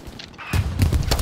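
Tank cannon and battle din in the World War II shooter Hell Let Loose: a few heavy booming blasts land one after another over steady background combat noise, fairly loud and close.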